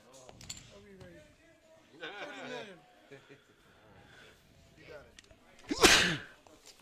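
A single sharp sneeze erupts near the end amid soft chatter at a live poker table during a Hold'em tournament, the voices low and scattered beforehand.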